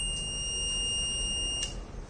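The buzzer alarm of an IoT transformer monitoring system sounds on high current, a steady high-pitched continuous tone that holds throughout and cuts off near the end.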